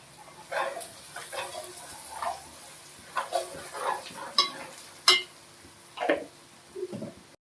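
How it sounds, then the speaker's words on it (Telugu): Ginger garlic paste and turmeric fry in oil while being stirred, with faint sizzling under irregular soft scraping and clinking of a spoon against the pan, close and quiet. "అల్లం వెల్లుల్లి పేస్ట్ను మంచిగా పచ్చివాసన పోయేంత వరకు నూనెలో వేయించుకోవాలి."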